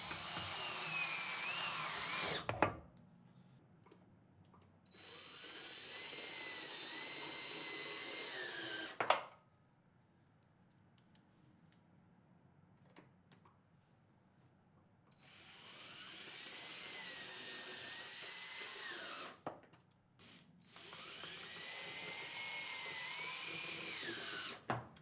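A power drill drives Robertson panhead screws into the back rail of a horizontal Murphy bed frame, three sustained whining runs with pitch sliding as the screws seat, separated by quiet pauses and a couple of sharp clicks.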